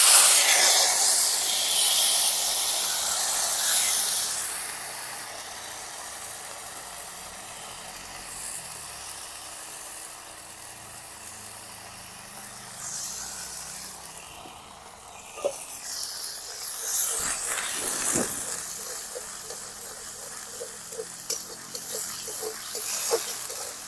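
Black cumin, ground garlic and dried red chili frying in hot oil in a pan: a steady loud hiss and sizzle that fades slightly, then brief crackles and pops, with no talk.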